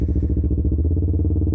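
A rebuilt Yamaha R3 motorcycle engine idles close up with a steady, loud, pulsing low rumble as it is put into gear.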